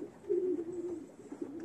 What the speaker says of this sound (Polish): A są to szybkie gołębie